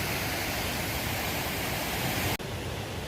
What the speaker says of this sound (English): Stream crossing.